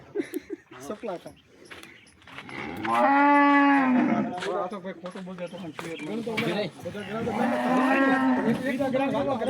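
Cows at a cattle market in Jamnagar moo loudly and nearby, two long drawn-out calls separated by shuffling and talking voices in the background.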